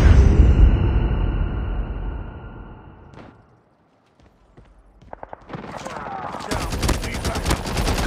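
Gunfire in the video game Call of Duty: loud rapid automatic bursts open the clip, fade to near silence, then return as dense repeated fire with mechanical clatter.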